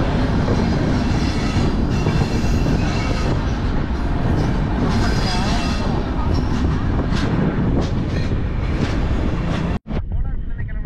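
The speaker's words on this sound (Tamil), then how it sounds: "அவ்வளோ ஸ்பீடாக போகும் இந்த வண்டி" A loud, continuous rumble and rattle of a fast-moving AC double-decker train, heard from on board, with a brief sudden dropout near the end.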